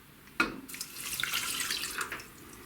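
Water poured into a pot for making soba tsuyu with kombu and katsuobushi, a brief splashing pour that starts with a sharp onset, runs for about two seconds and then trails off, fairly quiet, with no voices.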